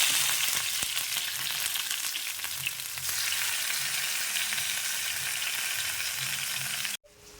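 Chempalli fish, also called puthiyapla, sizzles and crackles steadily in a pan of hot oil, a loud continuous frying hiss that cuts off abruptly near the end.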